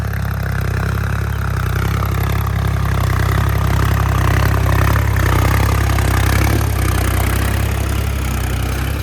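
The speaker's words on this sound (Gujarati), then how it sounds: "ભીનું ખેતર છે તે છતાં ટ્રેક્ટર ચાલે છે" A tractor engine drones steadily and loudly up close while pulling a chisel plough through a wet field, a heavy low rumble with some rattling, running without pause throughout.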